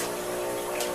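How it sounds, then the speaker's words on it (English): A Quiet One aquarium pump runs steadily in a home fish tank fighting cyanobacteria, giving off a continuous watery hum with faint sloshing, constant and close throughout. "I've got the old Quiet One pump, which used to be the main pump for this tank."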